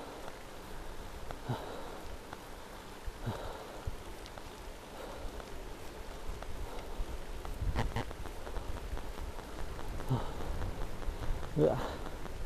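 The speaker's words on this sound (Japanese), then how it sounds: "結構降ってんな。" Steady heavy rain falls on a rural mountain road in Japan near a tiled-roof hamlet, a constant broadband wash with scattered louder drops and rustles close to a cyclist, with brief breathing sounds and no speech.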